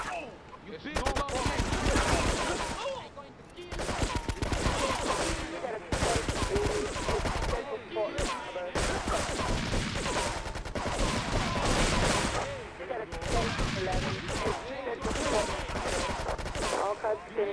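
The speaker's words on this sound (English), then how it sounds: "Investigate report the gunfire and explosions." Heavy gunfire and explosions in Grand Theft Auto III fill the scene with dense, continuous bursts and booms, loud and chaotic, with voices mixed in under the noise.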